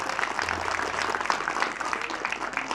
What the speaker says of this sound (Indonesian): tepuk tangan untuk yang hafal Alfiyah barusan